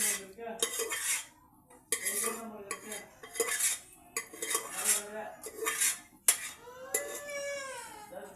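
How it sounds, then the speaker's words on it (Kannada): Cooked toor dal goes into a pan for a dal gojju, with a metal spoon knocking and scraping against it in close, repeated clinks and clatters spread over several seconds. "ಬೇಳೆನ ಎಲ್ಲ ಹಾಕ್ಕೊಳ್ಳೋಣ ಮೆತ್ತಗಾಗಿ ಇರಬೇಕು ಬೇಳೆ"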